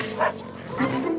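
A cartoon cat voice imitates a dog, giving two short barking woofs spaced apart, close and clear in a cartoon soundtrack.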